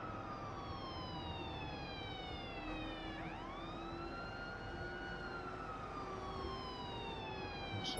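An ambulance siren wails in The Crew, rising and falling tones sweeping over a steady road rumble, loud and continuous throughout with no talk.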